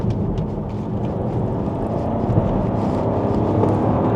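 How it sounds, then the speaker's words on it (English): Petrol MINI Countryman C engine with OPF filters, a steady low drone and rumble heard from inside the cabin, continuous and moderately loud with a slight swell toward the end. "it's not the world's greatest noise with OP filters and everything in between, but there's something about having a petrol motor"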